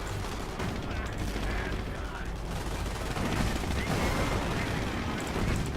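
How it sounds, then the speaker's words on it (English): Artillery barrage in the WWII strategy game Company of Heroes, a continuous dense roar of overlapping blasts and booms that swells louder partway through, with no clear gaps between impacts. "now it's time for artillery"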